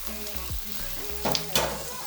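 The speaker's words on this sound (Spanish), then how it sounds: "agregamos ahí el aceite como está caliente. Vamos a empezar con la cebolla blanca." Chopped white onion dropped into hot oil for a mushroom risotto, a soft hiss rising into two brief louder bursts of sizzling near the end, close up with no talk over it.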